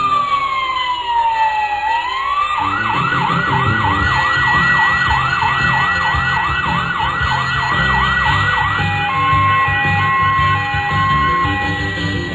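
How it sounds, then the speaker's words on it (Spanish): A fire station siren wails loudly and alone, first sliding down in pitch, then cycling rapidly up and down in a steady repeating yelp before settling into a held tone. "En el cuartel de bomberos la sirena ha sonado"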